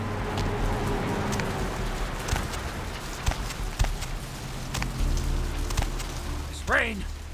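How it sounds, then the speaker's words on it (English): Steady rain falls in Vampire: The Masquerade - Bloodlines, a continuous hiss with scattered sharp drip and tap sounds. A brief voice-like sound comes near the end. "Rain is the pungent sewage of hell, seeping into the cracks of putrid purgatory."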